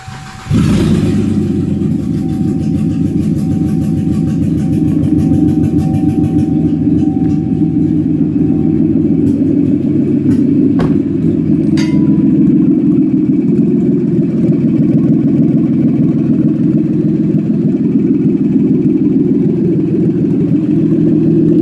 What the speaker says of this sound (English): If the engine does start, it is going to be loud as hell.